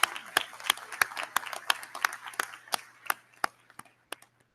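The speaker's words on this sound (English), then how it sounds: "can we get one more round of applause for the class of 2019" Scattered hand claps from a commencement crowd cheering the graduating class of 2019, crisp and separate at first, then thinning out and fading to a few last claps.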